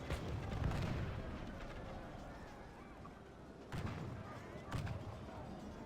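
In an English Civil War battle video game set at Edgehill, cannon shots boom out several times, deep thuds with rumbling tails spaced a few seconds apart under a continuous battle din, while someone talks throughout.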